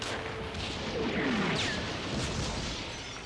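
Artillery bombardment of a besieged city, rendered as a dense, continuous rumble of distant booms and crashing impacts with a few whistling streaks, steady and fairly loud throughout.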